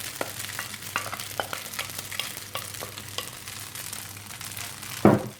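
Carbonara mixture of pasta and cheese stirred in a pan over low heat, a soft steady sizzle with repeated scraping strokes, ending in a louder scrape.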